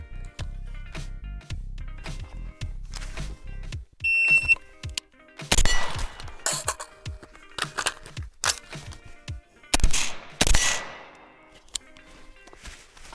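Gunshots sound during a timed shooting drill using a Lahar 30 with a shot timer. Sharp, separate reports come in quick strings, followed by a brief electronic timer beep and metallic clanks.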